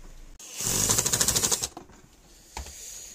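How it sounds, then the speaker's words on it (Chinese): Screws being driven back into a Midea electric water heater during a repair: a loud, rapid rattling burst lasting about a second, then a brief knock and a quieter hum. "然后我们再把螺丝拧上。"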